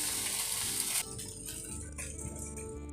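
A carrot and wheat dosa cooks in oil on a pan after being flipped. A bright, close hiss of sizzling oil drops after about a second to a quieter, steady crackle, with no talking.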